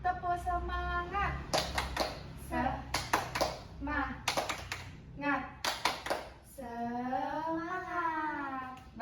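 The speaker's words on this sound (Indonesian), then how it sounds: "kita breaking dulu ya dengan tepuk semangat" Schoolchildren in an elementary class doing a rhythmic clapping chant, bursts of sharp claps in patterned groups alternating with children's sung chanting, close and lively.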